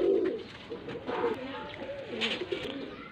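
A pigeon offered for sale in Faisalabad coos close by in soft, low repeated calls, heard over faint background noise with no talking.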